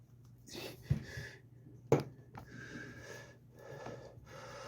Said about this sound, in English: that noise was me pushing the carburetor all the way down so it's flush and will seal